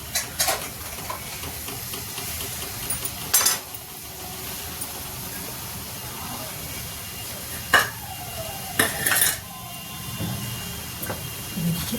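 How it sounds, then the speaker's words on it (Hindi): Sweet wheat-flour pua frying in hot oil in a kadhai, a steady soft sizzle running throughout, with a few sharp clinks and stirring knocks of a utensil against the pan, close and moderately loud. "ये देखिए मैंने 3 ठो कढ़ाई में डाल दिए हैं।"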